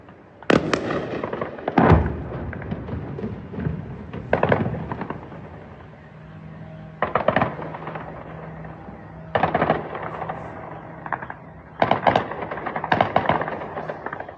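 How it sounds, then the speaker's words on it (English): A drone strike explosion mixes with bursts of anti-drone gunfire, loud sharp cracking volleys arriving in clusters every few seconds with echoing tails, no voices. "So you can see the explosion in the background. You can hear the anti-drone fire going up."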